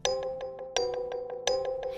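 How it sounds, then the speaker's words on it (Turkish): A bright two-tone doorbell chime rings three times in steady succession, each strike followed by a tinkling tail, clear and close with no talking. "Yalanlar evinin zili çalıyor."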